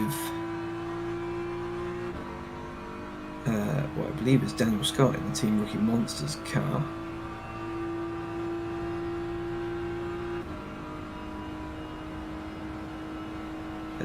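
An onboard race car engine at Daytona in rFactor 2 holds a steady, tonal drone through the lap, with a commentator talking over it partway through.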